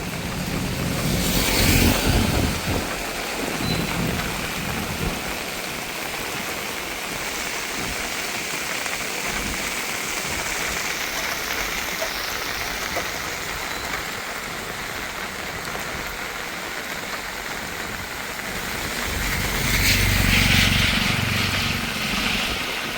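Heavy storm rain in Jaffna falls as a dense, steady roar for the whole stretch, swelling louder near the start and again toward the end, with faint traffic mixed into the constant wash and no voices.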